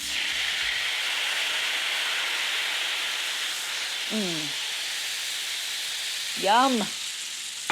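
White wine poured into a hot braciole pan hisses into a loud, steady sizzle as it deglazes; a brief voice murmurs partway through.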